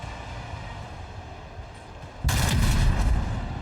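Gunfire in the Rogue Trader video game comes in as a sudden loud burst partway through, following a quieter rumbling stretch, then keeps going with a heavy booming roar to the end.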